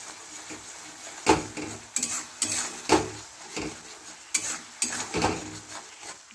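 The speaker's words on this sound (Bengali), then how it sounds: "টমেটোর যতক্ষণ না গন্ধটা যাচ্ছে ততক্ষণ আমি নাড়ব। ভালো করে কষে নেব।" Tomato paste being stirred in a pan for dum aloo, a series of rhythmic metallic spatula scrapes and clanks against the pan over a faint sizzle, no talking.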